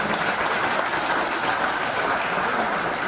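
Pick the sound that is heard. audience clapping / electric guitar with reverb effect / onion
audience clapping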